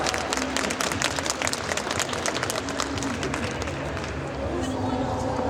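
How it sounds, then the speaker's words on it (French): Applause from the audience at a Japan pop cosplay show contest in Mons, a dense wash of clapping with crowd noise underneath that thins slightly toward the end. "Un tonnerre d'applaudissements."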